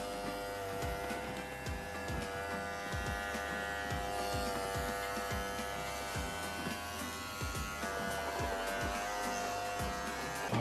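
Electric hair clippers cut hair up close during a beard and fade trim, a steady buzzing hum interrupted by rapid, rhythmic snips as the blades pass through the hair.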